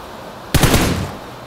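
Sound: gunfire in the video game PUBG on the Vikendi map

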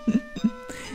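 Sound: cough

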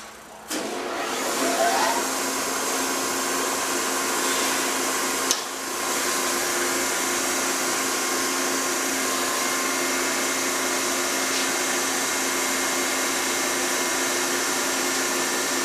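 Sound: grinding a gummy weld

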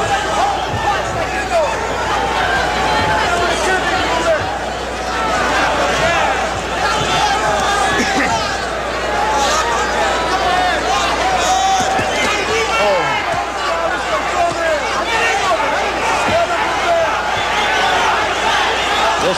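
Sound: boxing crowd cheering

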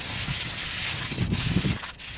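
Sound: sandpaper scuffing metal light bar frame

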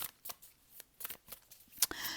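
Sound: shuffling a tarot card deck

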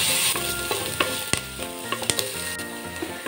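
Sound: onions sautéing in pan for carrot chicken pulao

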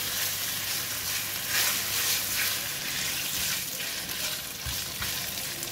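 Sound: bacon sizzling as it cooks in a pan

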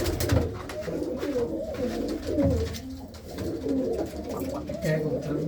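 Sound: pigeons cooing

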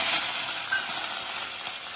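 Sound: frying ginger and chili in oil in a kadhai

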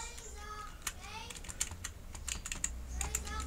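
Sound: computer keyboard typing and backspacing

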